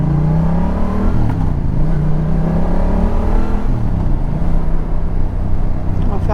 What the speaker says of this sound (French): Allez, petite accélération pour le plaisir